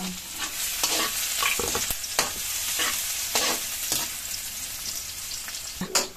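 Garlic, onion and tiny shrimp paste stir-fried in a pan: a steady close sizzle broken by repeated scraping stir strokes at an uneven pace, no voices.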